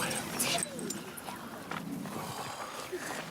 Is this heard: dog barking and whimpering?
yes